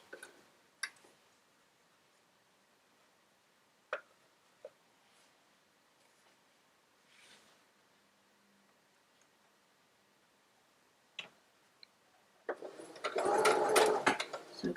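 A sewing machine stitching fabric runs in a loud, fast burst near the end, after a long quiet stretch broken only by faint clicks and handling taps.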